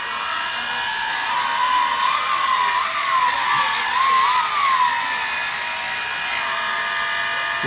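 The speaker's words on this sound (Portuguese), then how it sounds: "os quatro motores funcionando." A DJI Phantom 2 drone runs its four motors on the bench after a motor replacement, giving a steady, loud whine with wavering pitch that holds for several seconds.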